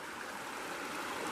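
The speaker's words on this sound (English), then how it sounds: "there's no way I'm gonna hear anything over the river for 3 days" A river rushes steadily beside a riverside camp on the Deschutes, a close, continuous broadband roar of flowing water with no breaks and no voices.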